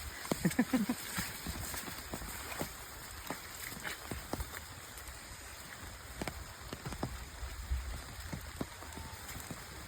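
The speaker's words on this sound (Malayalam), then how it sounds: "മഴ ഒരു രക്ഷയില്ല കേട്ടാ മഴ വിടുന്നില്ല" Monsoon rain falling steadily during flooding in a coconut-grove area, a soft continuous wash with scattered close drips and taps on surfaces throughout, fairly faint and without talk.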